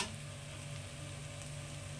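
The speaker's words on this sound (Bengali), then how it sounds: "পেঁয়াজ রসুনটা ভাজা ভাজা হয়ে গেছে" Onion and garlic fry in a pan for a bitter gourd curry, giving a steady, close, even sizzle with faint ticking and no pauses.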